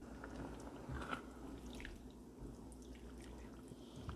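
Meat and vegetables simmer together in a pot during home freezer-meal cooking, giving a steady soft bubbling with small drips and pops throughout, close by and with no talking.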